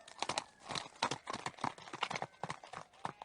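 Horses ride off at a brisk pace, their hooves clip-clopping in a quick, steady rhythm of close, crisp beats that carry on throughout.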